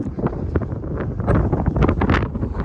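During a dust storm, wind gusts roar through a tin roof, a loud, ragged rush that surges and buffets the microphone without letup, with no voices.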